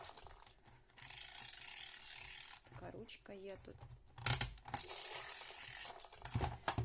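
A toy crank ratchet on a Chuggington train set ratchets with rapid dry clicking in two long bursts, separated by a pause where a voice speaks briefly.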